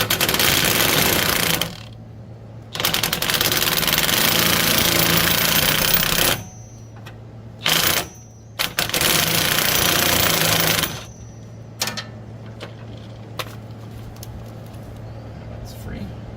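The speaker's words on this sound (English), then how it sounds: "the head, instead of the nut, is what I'm actually going to be impacting on." Impact wrench hammering on a bolt head at a rear axle hub during a rear axle seal repair, firing in long loud rattling bursts and shorter blips separated by quieter gaps with low shop background.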